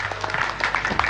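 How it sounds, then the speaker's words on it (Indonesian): Students at SMKN 1 Tamanan, a vocational high school in Bondowoso, applaud together in a short, dense burst of clapping that fills the whole moment. "monggo tepuk tangan dulu"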